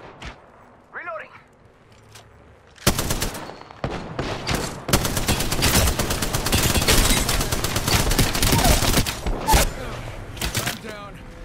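Rapid bursts of gunfire in Apex Legends start abruptly after a quieter opening and keep up as dense, loud volleys of overlapping shots, with a player talking over part of the fight.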